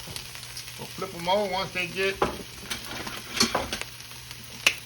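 Reuben sandwiches toast on a hot griddle with a steady, moderate sizzle beneath a voice, punctuated by a few spatula scrapes and clicks.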